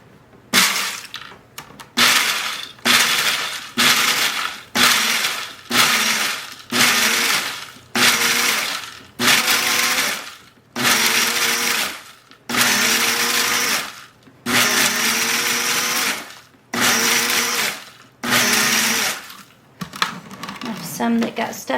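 A blender pulses dehydrated oven-dried peppers in about a dozen loud, evenly spaced bursts, each a second or so long with brief silent gaps, ending with a final rattle.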